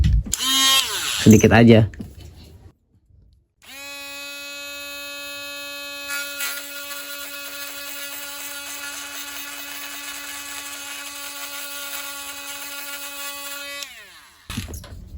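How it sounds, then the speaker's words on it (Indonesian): A high, steady power-tool whine runs for about eleven seconds while a part of an MN128 Rubicon RC car gearbox is ground and drilled. The tool is close and loud, with a voice heard briefly before it starts. "kita harus gerinda sedikit ya, kita harus halusin sedikit, dibor sedikit"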